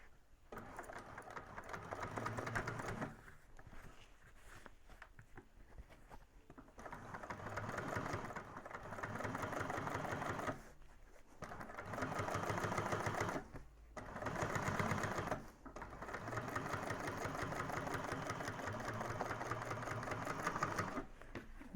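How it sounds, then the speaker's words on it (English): A sewing machine topstitches through the lining side of a bag, running in several steady bursts of rapid mechanical whirring separated by short pauses, close and fairly loud. "then top stitch through the lining side"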